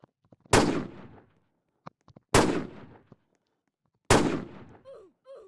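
Three sharp, loud sniper rifle shots ring out in a video game, each with a decaying tail, spaced about two seconds apart, with faint clicks between them and a brief voice-like sound at the end.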